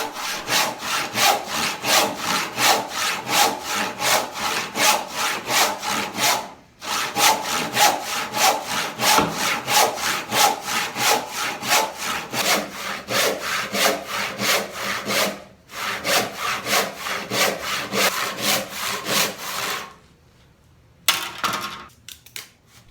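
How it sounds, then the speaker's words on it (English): A hand saw resaws a wooden board for a Shaker nightstand, binding in the cut, in steady, rapid back-and-forth strokes, loud and close, with two brief pauses and a longer stop near the end before the cutting resumes; no one speaks. "and then just finish my sawing down."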